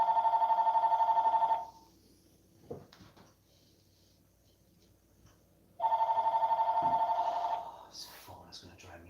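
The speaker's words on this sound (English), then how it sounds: "This phone is going to drive me insane." A telephone rings indoors in a home workshop: two loud, trilling electronic ring bursts separated by several seconds of quiet with faint knocks and rustles.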